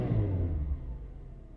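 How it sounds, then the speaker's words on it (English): A Mitsubishi Magna Mk1 four-cylinder engine idles close by with a steady, smooth, low rumble. No voices are heard. "it is pretty smooth for a four-cylinder engine, I reckon."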